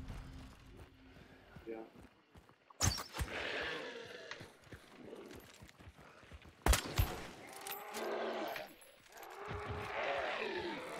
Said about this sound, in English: I just heard shots